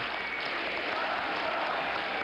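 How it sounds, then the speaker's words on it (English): Delegates at the 1976 Democratic National Convention in New York cheer and clap in a dense, continuous crowd roar, steady in loudness from start to finish. "They're cheering, "We love New York.""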